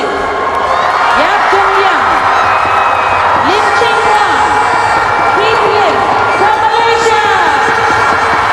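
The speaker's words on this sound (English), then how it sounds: "Now hear the crowd and the reception for this team." Loud crowd at a swimming venue during SEA Games finals, cheering and whooping for a relay team, with a continuous roar and rising shouts over it.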